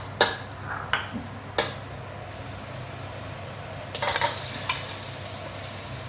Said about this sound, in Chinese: 我才放这个凤梨炒一下，我下辣椒下去